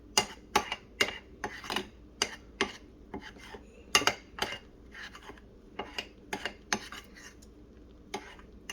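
A spoon stirring protein powder into yogurt in a bowl, with irregular close clinks and scrapes against the bowl in a steady mixing rhythm.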